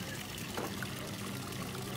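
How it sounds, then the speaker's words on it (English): Water pours steadily from a public drinking fountain at a lunch stop in the Gorges du Verdon area of southern France, a continuous close trickle and splash running the whole time with faint background noise. "And drink out of the fountain."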